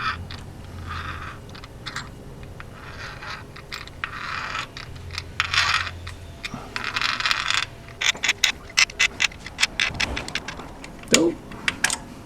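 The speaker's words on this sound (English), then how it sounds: "I actually like to hear the sound of these threads cutting metal." A tap cuts threads into a hole in a metal engine part, producing irregular dry ticks, clicks and short scratchy grinding bursts that come close together and grow sharper and more frequent toward the end.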